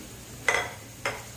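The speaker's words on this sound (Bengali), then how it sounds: "পেঁয়াজটা একটু হালকা ভেজে নিব।" Onions and green chilies frying lightly in a pan for a beef checha kabab, with a soft steady sizzle and two brief louder stirring scrapes.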